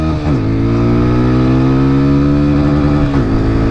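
TVS Apache RTR 160 4V motorcycle engine holding a steady drone in second gear at about 50, loud and close, with brief pitch dips near the start and end as the throttle shifts.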